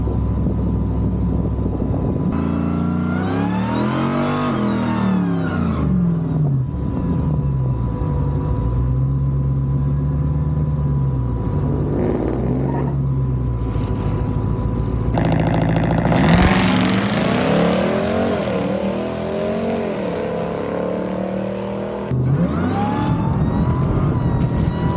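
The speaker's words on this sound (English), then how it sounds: "We're about to race this TRX." Ram TRX truck drag racing a Hellcat-swapped S10 at a drag strip, loud engines revving and accelerating hard with rising and falling pitch sweeps, passing close by over steady background roar.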